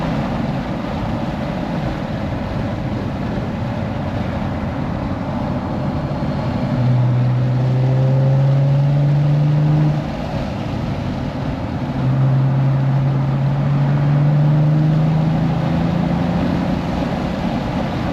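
Cadillac CT4-V Blackwing engine held at full throttle on a race track, a sustained droning roar with two rising pulls, heard from inside the car.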